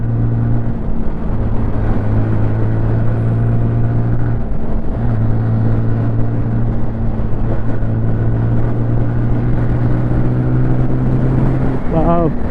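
A TVS Apache RTR 180 2V motorcycle carrying a 90 kg rider gives a continuous close engine drone as it accelerates through the gears, with wind rush throughout and a brief dip where a gear changes.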